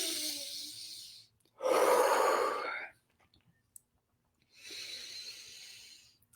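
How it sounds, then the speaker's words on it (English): A deep breath during a presentation: a quiet exhale, then a long, loud inhale, a pause with a small click, and a slower, softer exhale, close to the microphone with no talking. "Now it's time for a deep breath."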